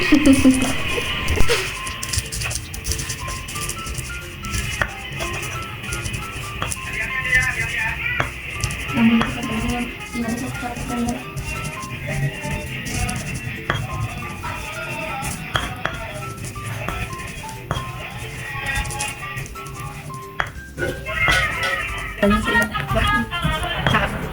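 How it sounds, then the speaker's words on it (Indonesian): A stone pestle grinds peanuts into powder in a stone mortar, a long, steady run of rapid rhythmic knocks and scrapes up close, continuing throughout with little pause. "mengulek agar kacang tanah menjadi lembut dan bubuk"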